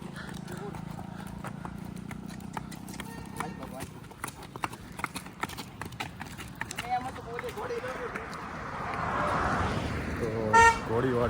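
Horse-drawn cart passing on a road, hooves clip-clopping in a steady rhythm amid traffic, with a car horn tooting near the end and people talking throughout.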